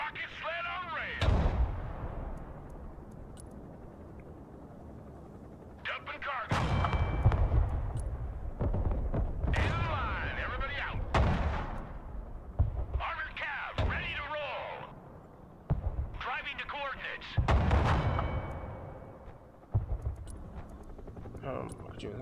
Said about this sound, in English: Oh, watch out your mortars.